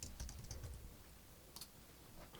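Rapid typing on a computer keyboard during an edit in DaVinci Resolve, a steady close patter of keystrokes with a brief louder burst partway through, no voices.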